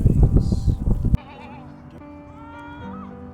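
Goats bleating on a farm in Cambodia, a fast run of loud, close, wavering bleats for about a second that stops abruptly and leaves only a faint background hum.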